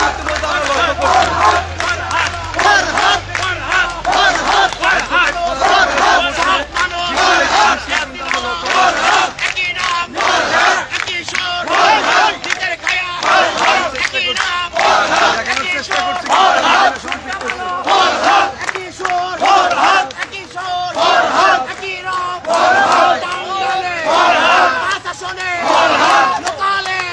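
A large political procession in support of Advocate Farhad Iqbal, a dense crowd chanting and shouting in steady rhythmic waves throughout, loud and sustained with no break.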